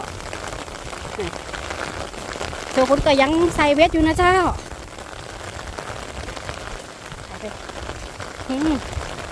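Rain patters steadily in the background while people talk nearby, with a brief louder stretch of voices in the middle.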